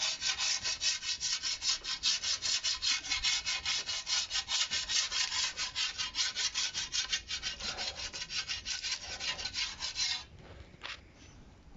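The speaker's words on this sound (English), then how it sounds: "It's normally rusted underneath there, so I just scrape it clean." A metal blade scraped clean of rust on the underside of a bowling green cylinder lawn mower, a steady rapid back-and-forth rasping with a regular rhythm, close and loud, slowing to a few lighter scrapes at the end.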